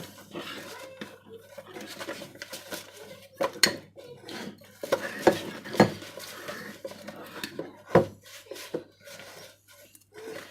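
Spoon clattering against a mixing bowl while banana cake batter with prunes is stirred by hand, with irregular scraping knocks and a few sharper clinks, close and fairly loud.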